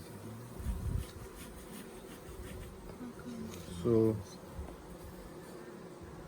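Honey bees fill an open hive during a spring inspection with a steady, close, dense buzz. A voice briefly speaks over the humming swarm.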